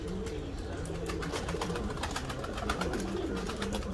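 Flock of about 110 homing pigeons, Canadians and grizzles, cooing and shuffling together at close range, a dense continuous burble of calls with wing and foot noise and no talk.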